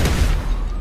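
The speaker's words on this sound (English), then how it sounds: "Controlled explosion!" Controlled bomb explosion in GTA V, a short loud booming burst with rumbling low end, heard alone.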